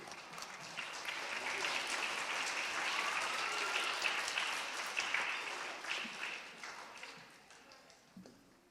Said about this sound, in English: if you could hold off on your applause